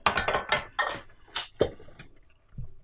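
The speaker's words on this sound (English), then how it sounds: "it is safe to open your pressure cooker, the lid" A pressure cooker lid is opened after the steam is released, with several metallic clanks and scrapes of the lid against the pot up close. A final soft knock follows after a pause.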